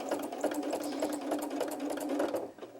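A sewing machine runs in a fast, steady stitching rattle close by while sewing the seam of a fabric baby bib, slowing near the end, with no talk over it.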